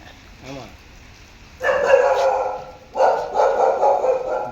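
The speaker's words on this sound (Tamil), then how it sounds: "நாய் குலைக்கும் தான் வந்து பார்க்குறீங்க" A dog barks near a saw-scaled viper in Madurai, giving two loud bursts of rapid, close barking after a quieter opening with a brief yelp.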